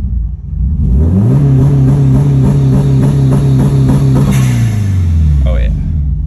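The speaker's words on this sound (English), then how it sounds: "I'm gonna see if launch control works here real quick" A 2007 Subaru STI engine revs hard on launch control, climbing quickly and holding a loud, steady high-rpm drone for several seconds before dropping off, close and alone.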